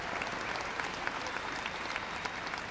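A crowd at the 1999 Hong Kong Open squash final in Hong Kong breaks into sustained, dense applause, steady clapping from many hands at moderate distance with faint talk underneath.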